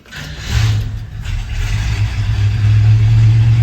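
1971 GMC 2500 pickup truck engine running, starting quiet then rising as the motor revs up and settles into a steady loud rumble, close by and alone.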